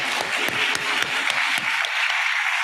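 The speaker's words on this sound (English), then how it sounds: "Another round of applause for this wonderful team." Audience applause for a teacher team at an education forum showcase, a steady wash of many clapping hands with a few sharper individual claps standing out.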